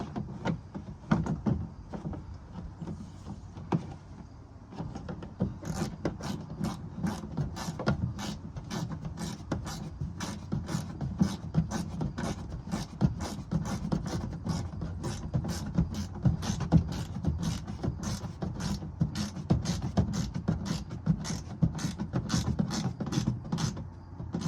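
A socket ratchet screwing in a wheel well liner bolt on a 2025 Toyota Tundra, giving a long run of quick, evenly spaced clicks, close and fairly quiet, with no talking.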